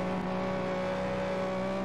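Car engine exhaust revving steadily in the FlatOut 2 racing game, a loud continuous droning roar with layered engine harmonics, held throughout without talk.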